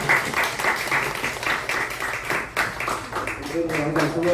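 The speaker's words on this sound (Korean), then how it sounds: "박수 한번 부탁드립니다." Congregation clapping during a church service, a brief round of many hands mixed with voices and a bit of music underneath, moderately loud and close.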